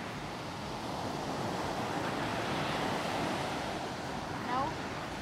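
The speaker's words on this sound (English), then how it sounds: "We'll sit here for some time and watch the Arabian Sea. The sea is a little angry." Rough waves on the Arabian Sea, churned up by rain, wash continuously as a steady broadband roar with wind noise, fairly loud and unbroken, with a brief swell near the end and no talking.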